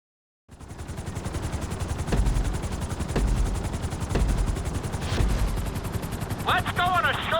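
Helicopter flying in Grand Theft Auto V, a constant rotor drone that starts suddenly and holds steady with rhythmic thumps, and a voice speaking near the end.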